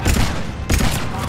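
A loud, dense burst of rapid gunfire from a turret fight in the Mass Effect 3 video game plays in two quick volleys, with no talking.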